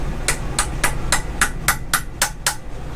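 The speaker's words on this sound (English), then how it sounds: "Tap it, just tap it lightly." Nine light, evenly spaced hammer taps ring out sharply during the teardown of a 1.8T engine, each a crisp metallic strike with a brief decay, close by and steady in rhythm with no talk over them.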